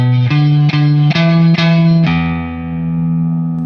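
An electric guitar plays blues, picking a short run of sustained notes with each note struck twice, followed by a final held note that rings out and slowly decays, thick with distortion and effects.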